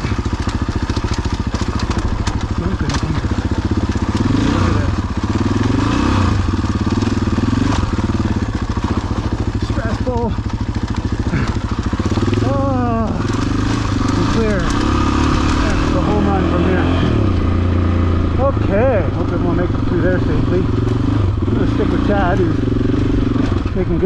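An adventure motorcycle, a KTM 790 or Honda Africa Twin, rides a rough mountain trail, its engine droning steadily for the whole stretch with clattering and knocks from the rocky ground and wind noise.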